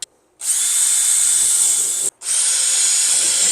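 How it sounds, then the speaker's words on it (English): A power drill pre-drilling bracket holes into a wall, two loud sustained high whining runs close by, the first about 1.7 seconds, then a brief stop and a second run, with no talking. "Then we need to pre-drill our holes for our bracket that is going to go in between."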